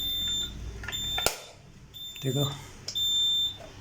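A fire alarm control panel under test, signalling an outside output alarm, gives repeated high electronic beeps in short bursts and one long tone, while someone talks nearby.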